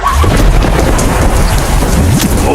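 Rain and thunder in a cartoon, a loud, close downpour with a deep thunder rumble rolling underneath throughout, no voices heard.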